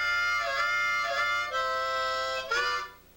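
A harmonica plays a short lick of several sustained chords, sliding toward the low end and finishing with a single percussive in-breath on the 3 and 4 holes, played alone and fairly quietly.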